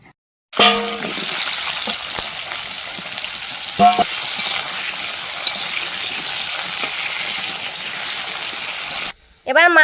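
Potatoes fry in a pan with a loud, steady sizzle that runs nearly unbroken and close by, with brief voice-like sounds over it before the sizzle cuts off.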